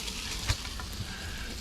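Bacon frying in a pan at a campsite, giving a steady close sizzle with a couple of small pops and no talk over it.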